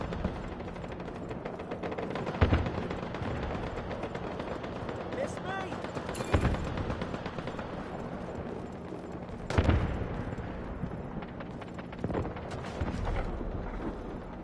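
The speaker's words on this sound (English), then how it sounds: "Artillery barrage incoming" Artillery barrage in the video game Delta Force on PS5, with scattered heavy blasts and bursts of gunfire rumbling over a continuous battle bed while players talk.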